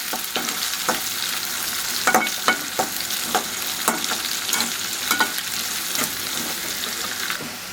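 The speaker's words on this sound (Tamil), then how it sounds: "அடுத்து இஞ்சி, பச்சை மிளகா, நல்லா கிளறி இருக்கணும்." Ginger and green chili stir-frying in hot oil for a tomato rice pongal, with a steady sizzle and frequent sharp scrapes and taps of a spoon against the pan, close and fairly loud.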